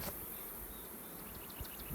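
Faint, steady buzzing of many honey bees at a hive, a low continuous hum with a few brief louder passes.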